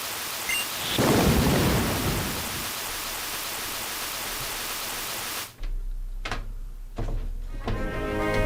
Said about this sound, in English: What a storm.